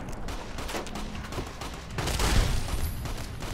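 Pistol gunfire in the video game Fallout New Vegas, a burst of rapid shots with a louder impact in the middle, heard over steady game ambience without talk.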